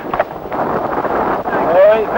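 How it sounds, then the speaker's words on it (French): Strong wind buffets the microphone outdoors at night, a loud continuous rumbling roar with someone talking over it. "Oh, ce vent, nom de Dieu."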